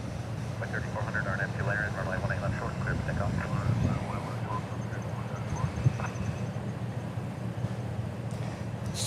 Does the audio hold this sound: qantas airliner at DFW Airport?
yes